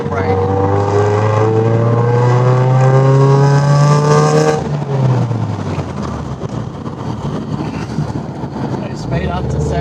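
A Subaru BRZ fitted with a big brake kit accelerates hard, its engine note climbing in pitch for several seconds before dropping off, then road and tire noise carries on as the car slows under braking.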